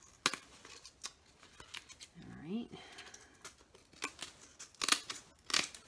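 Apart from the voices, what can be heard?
scissors cutting back book end paper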